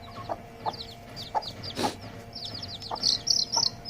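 Farm hens cluck in the evening as they are put into a coop, with soft repeated clucks and a few higher chirps spread across the few seconds, fairly close over a quiet outdoor background.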